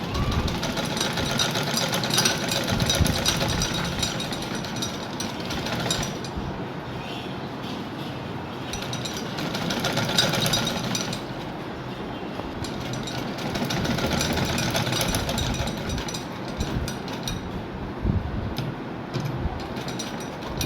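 An electric sewing machine stitches lining onto buckram in continuous fast runs, pausing briefly and restarting several times, loud and close with a rattling mechanical hum and no talk.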